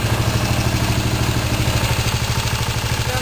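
A racing lawnmower engine idles with its stock exhaust and muffler, a steady, loud, close-up chugging rumble with a fast even pulse and no voices.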